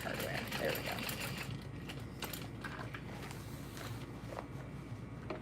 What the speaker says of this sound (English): And then I'm sewing diagonally across